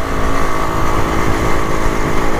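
A Rajdoot 175 two-stroke motorcycle engine drones loudly and steadily close by while riding, a continuous buzzing roar with no pauses and no voices.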